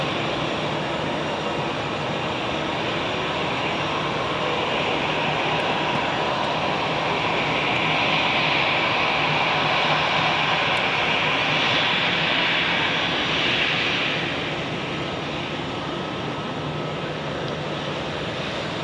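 Airbus A380 airliner at Zurich airport, a loud broad jet engine roar heard from an observation deck that swells gradually toward the middle, then eases off while a steady rumble continues.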